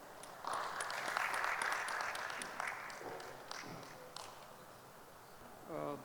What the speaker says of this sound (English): Once again, a huge round of applause, everyone